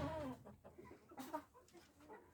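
Ukrainian cuckoo-patterned hen clucking at close range in a backyard coop, a run of soft, uneven clucks and throaty calls over a brief quiet stretch.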